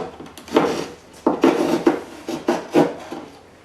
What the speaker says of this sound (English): get out your knife or whatever your choice is and just start